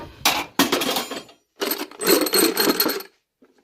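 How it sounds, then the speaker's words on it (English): Engine bolts from a B16A head teardown clatter onto a metal bolt pile in two quick groups of sharp metallic clinks and rattles, close and loud, followed by a short faint clink. "we'll pull all the bolts, magnet, we'll put them in the bolt pile"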